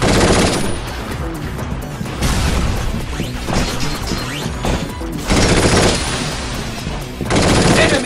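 Rapid machine-gun bursts and gunshots in the video game Binary Domain, loud and sustained across the whole stretch with short lulls and heavy impact crashes, no talk.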